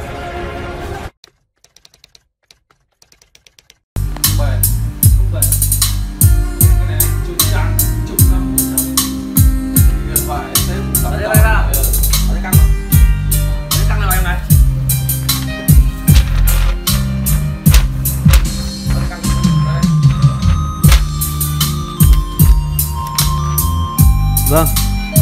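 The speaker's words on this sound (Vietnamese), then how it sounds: "đó là tiếng trầm B3, mã là 815 plus 340" Deep bass music pumping through a B3 815 Plus subwoofer speaker at a Hai Phong audio shop, loud and continuous with steady punchy beats after a brief quiet opening.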